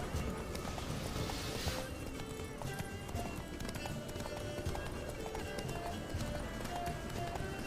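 Geralt's horse galloping in The Witcher 3, a steady rapid clip-clop of hooves running continuously at close range, layered with in-game ambience.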